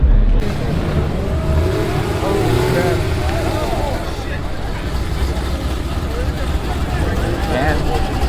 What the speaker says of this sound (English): I'm doing burnouts and everything